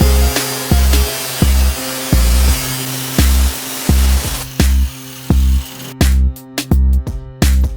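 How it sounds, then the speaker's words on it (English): Sandpaper of 120 grit worked by hand over the metal body of a Ram van during a camper conversion, heard as steady, repeated scraping strokes, each about a second long, close and fairly loud, with no talking. "I'm sanding it with 120 grit sandpaper"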